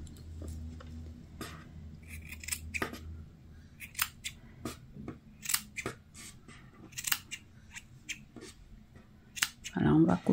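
Scissors snipping loose crochet yarn ends, a run of sharp close clicks and snips spread irregularly, with a person talking through most of it.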